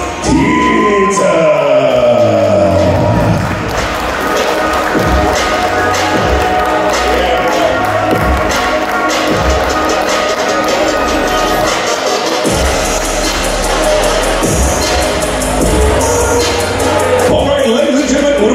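A crowd applauds and cheers for boxer Marius Tiță at a fight press conference, sustained loud clapping mixed with music and thumping, with an announcer's voice over the top.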